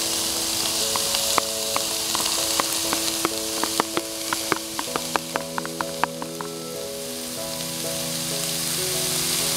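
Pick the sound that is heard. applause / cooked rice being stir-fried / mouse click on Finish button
cooked rice being stir-fried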